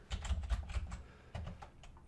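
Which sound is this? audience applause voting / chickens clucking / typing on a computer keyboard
typing on a computer keyboard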